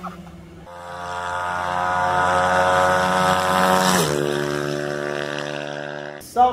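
A two-stroke Lambretta scooter engine revs up close by, rising to a loud, buzzing whine that holds for a few seconds and then drops back to idle.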